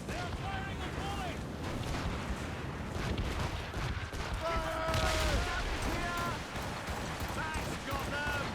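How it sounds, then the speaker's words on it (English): French ships firing a cannon volley in Assassin's Creed Rogue, with rolling booms and rumbling blasts swelling through the middle amid naval battle noise, while crew voices shout over the action. "They are firing a volley!"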